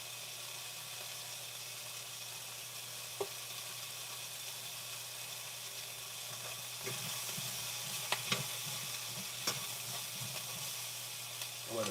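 Turkey meat fries in a pan with a steady, faint sizzling hiss, broken later by a few sharp pops and scrapes.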